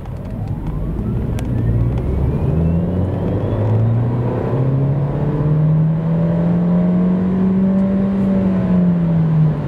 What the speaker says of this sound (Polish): Tak wygląda przyspieszenie samochodu od 0 do setki.